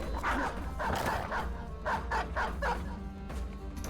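Hunting dogs in the game Band of Poachers bark repeatedly in quick bursts, several animals at mid distance over a continuous low background rumble.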